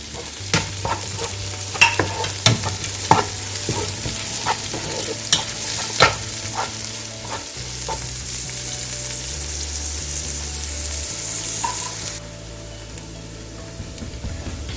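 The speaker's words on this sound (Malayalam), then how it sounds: "ഇനി നമുക്ക് തക്കാളി, പച്ചമുളക്, വേപ്പില ഇതും കൂടി ചേർത്തിട്ട് ഒന്നും കൂടി നന്നായിട്ട് വഴറ്റണം" Onion, tomato, green chili and curry leaves sauté in a pan, a steady sizzle broken by repeated sharp scrapes and clatters of the stirring spoon, close and loud with no talk.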